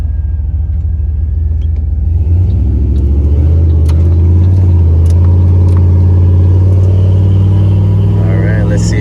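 A Chevrolet Silverado pickup with 4.10 gears pulls hard, its engine drone climbing steadily in pitch as it accelerates, loud and heard from inside the cab.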